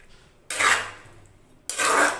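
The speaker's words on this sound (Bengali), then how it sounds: "মিক্স করে দেবো।" Vegetable kootu curry is stirred in a pot, producing two loud, close scraping strokes of a spoon against the pot, separated by a short pause.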